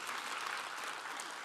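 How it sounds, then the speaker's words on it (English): A church congregation claps, a brief, soft burst of many hands heard from a distance, fairly even and fading slightly toward the end. "you can clap for that"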